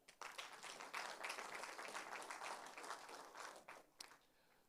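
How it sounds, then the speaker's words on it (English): Graduation ceremony audience bursts into sustained applause, a dense, fairly distant patter of many hands that swells, holds steady, then thins out with a few last claps. "That's where you clap right now."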